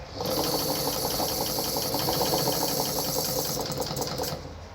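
A Meister Werke sewing machine winds a bobbin with a steady, fast whirring hum and rapid mechanical ticking, close and continuous until it slows at the end.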